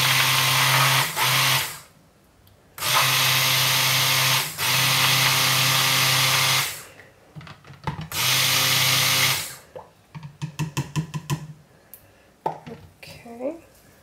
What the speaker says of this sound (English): Grab my stick blender and just blend the bentonite clay into the oils.